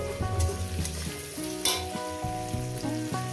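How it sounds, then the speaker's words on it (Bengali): Onions frying with salt in a pan for a radish-stem fish curry, a steady close sizzle with stirring and clinks of a utensil against the pan, heard alone without talk. "দিয়ে দেবো পরিমাণ মতন লবণ দিয়ে পেঁয়াজটাকে ভেজে নেব"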